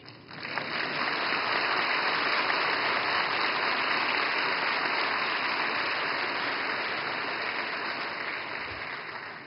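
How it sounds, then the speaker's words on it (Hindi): Audience applause at the RBI 90 Years ceremony in Mumbai, a steady dense wash of clapping from a large crowd that holds for about nine seconds and tapers slightly at the end. "और मुझे खुशी है कि सबसे ज्यादा तालियां इस बात पर पड़ी।"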